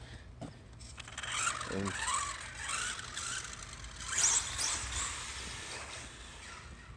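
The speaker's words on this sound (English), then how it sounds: "You hear that brushless motor sing." The brushless motor of a Feiyue FY08 RC car on a 3S setup whirs and whines, swelling into a louder high-pitched burst midway before settling back.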